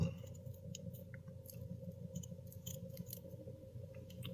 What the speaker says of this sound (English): Let me cut these strings off.